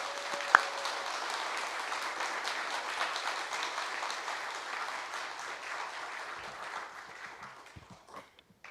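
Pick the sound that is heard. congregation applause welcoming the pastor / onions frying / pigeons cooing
congregation applause welcoming the pastor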